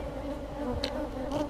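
Honey bees buzzing around an open hive, a dense steady droning hum close by, with a brief individual bee passing louder for a moment.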